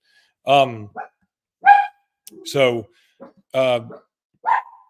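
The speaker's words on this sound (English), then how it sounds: "My dog's got to stop barking." A pet dog barks loudly and close by in sharp single woofs, about five spaced out over several seconds, with a short high yip between them.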